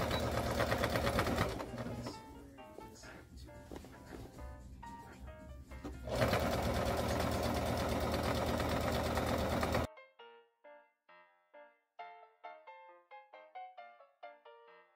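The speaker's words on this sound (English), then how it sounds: "I'm sewing in between the two grommets, continuing to stitch" A sewing machine stitches pants between two grommets, running in a fast steady whir for about ten seconds. It then drops to short, quieter bursts of stitching with pauses between them.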